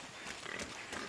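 Pig grunts from the Shadow of the Tomb Raider video game, three short snorting bursts spaced across about a second over a steady background of game ambience.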